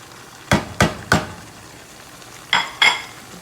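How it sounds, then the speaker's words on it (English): Vegetables for homemade chili tumble from a plate into a pot of meat, landing as five sharp, close knocks and clatters, a quick group of three followed by a pair, with no talking. "now I'm going to go ahead and I'm going to dump all of my veggies in here"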